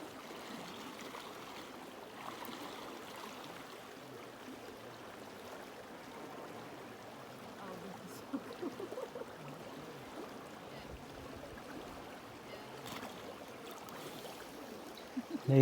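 River water flows in a steady, soft broadband wash while someone moves about in it, with occasional faint splashes and a brief louder disturbance at the end.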